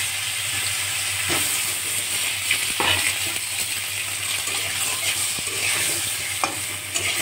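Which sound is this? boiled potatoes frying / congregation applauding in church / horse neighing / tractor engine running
boiled potatoes frying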